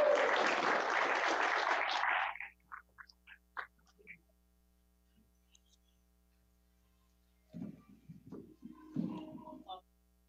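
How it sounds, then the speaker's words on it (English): Applause from a crowd at a Hawaii saber sparring showdown, a short burst of clapping for the volunteers that fades after about two seconds, followed by a quiet stretch and faint scattered speech later. "Let's give them a round of applause,"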